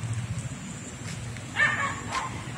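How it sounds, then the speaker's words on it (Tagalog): Dogs give a few short barks in the distance at dusk in Botolan, Zambales, faint against low outdoor background noise. "Ayan ang mga aso paghapon na."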